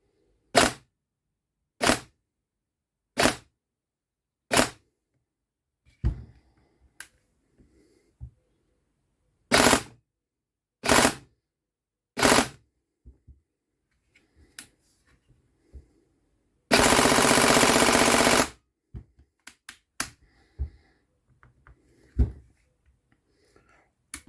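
A Tokyo Marui MP5 NGRS airsoft gun fires in separated sharp shots, first in an evenly paced series, then in a few more clustered shots, followed by a loud sustained mechanical burst and scattered faint clicks, all close and without speech.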